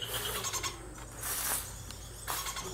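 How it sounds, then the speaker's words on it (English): A scaly-headed parrot in Brazil's Pantanal gives harsh, raspy calls in three separate bursts over a steady background hum. "the scaly-headed parrot is generally common over much of southern Brazil"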